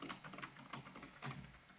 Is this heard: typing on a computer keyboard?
yes